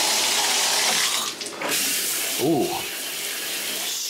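Strong stream of water gushing from a hotel bathroom tap near Anaheim, a steady loud rush filling the whole clip, with a brief dip and a short exclamation from a voice partway through.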